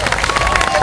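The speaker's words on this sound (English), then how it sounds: "Let's give a big round of applause out there for Bhutan." Crowd at an Iowa State Fair tiger show applauding, quick scattered clapping and cheering from the audience close by, with a voice talking over it.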